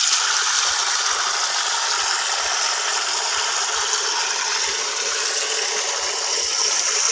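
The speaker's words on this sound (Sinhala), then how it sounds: "හරියන්නේ දැන් වතුර ටික බහින්න දාමු." Water draining from a home fish tank, a steady close hiss and gush with faint periodic clicks underneath, continuous throughout with no talk.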